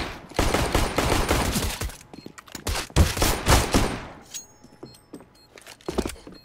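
Gunfire in the video game CS:GO: rapid bursts of automatic weapon fire and sharp single shots, loud and close at first, then thinning out into sparser, quieter shots.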